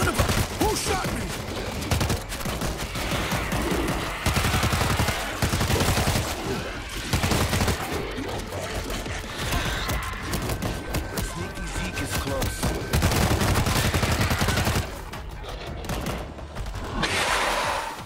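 Dense rapid gunfire rattles almost without pause in the World War Z zombie shooter, loud bursts layered with game effects, with a brief calmer stretch near the end.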